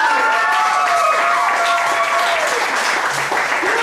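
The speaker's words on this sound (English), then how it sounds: "Give it up one more time, nice and loud for Soma." A crowd applauds loudly and continuously, dense clapping with some cheering and a few whoops over the top.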